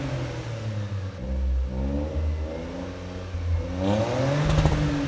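A Toyota GR Corolla engine revs through its real exhaust with a triple-tipped rear box, pitch climbing and falling in steady sweeps, then rising again near the end, close and fairly loud.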